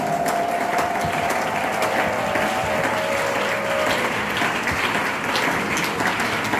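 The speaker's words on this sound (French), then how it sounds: "Est-ce que tu peux acclamer très fort pour le roi?" A church congregation at morning prayer applauds and cheers loudly for the king, a dense sustained roar of clapping with a few voices ringing out over it.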